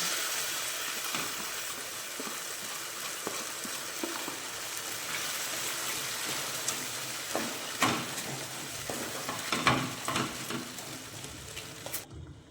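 Cashew, poppy seed and fennel paste frying with onions in a pan for Bengali doi katla, a steady close sizzle throughout with occasional stirring scrapes and spatters, no voices.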